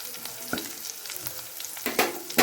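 Cumin and shahjeera sputter in hot oil in a pan for jeera rice, a soft crackling sizzle with scattered pops that grow louder near the end, no talking.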